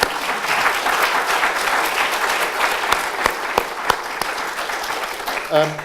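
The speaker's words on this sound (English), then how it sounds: "But I think he still deserves a round of applause for that" An audience at the Royal Statistical Society awards ceremony claps steadily for a fellowship recipient, dense sustained applause with a few sharper individual claps standing out, and a voice briefly starting at the very end.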